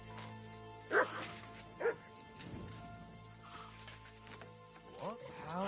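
Dog in the video game Kingdom Come Deliverance 2, two sharp barks close together near the start and a softer yip later, with a voice speaking between them.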